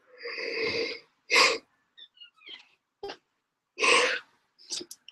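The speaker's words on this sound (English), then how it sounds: "I don't know why I yawn so much." A close, drawn-out voiced yawn of about a second, followed by short breathy exhales and sighing noises with quiet gaps between them.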